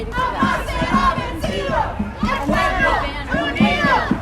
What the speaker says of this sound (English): Look at this huge crowd.